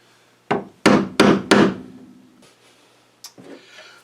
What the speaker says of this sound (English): I'm picking at it here with the chisel, and I tell you what, it ain't going too good.